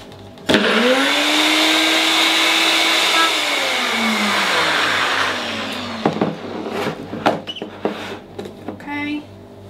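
A kitchen blender whirs loudly through red cabbage kimchi ingredients, a steady motor drone from the start that slows and winds down near the middle, followed by scattered clunks and handling noises of the jar.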